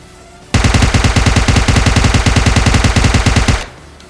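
Rapid automatic gunfire from PUBG Mobile Lite, a loud, steady burst of evenly spaced shots lasting about three seconds, then it cuts off abruptly with no talking.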